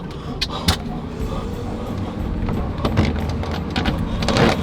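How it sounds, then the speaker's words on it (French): Steady rumbling road noise from inside a moving truck, with a continuous low engine and tire drone, occasional rattles and clicks, and a faint breathy voice close by. "Je suis vraiment dans un camion."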